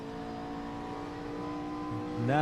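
Race cars crossing the finish line at Watkins Glen in a GT racing video game, a steady engine whine holding pitch then rising sharply as revs climb at the end, continuous and fairly loud.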